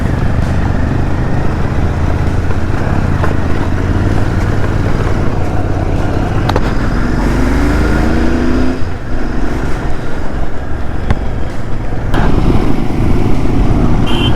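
A motorcycle climbs a high Himalayan mountain road toward Umling La, its engine droning loudly and steadily with wind rush. A brief rising whine comes partway through.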